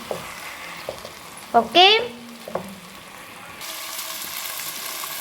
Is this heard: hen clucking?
no